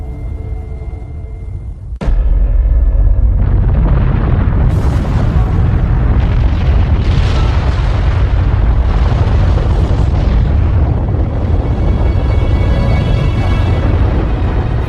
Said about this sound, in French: des explosions destructrices se produisent constamment